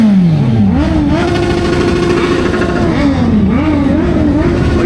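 Superbike engines revving hard at a bike and car meet, loud continuous roar with rising and falling pitch sweeps as throttles are blipped, close by and filling the whole clip.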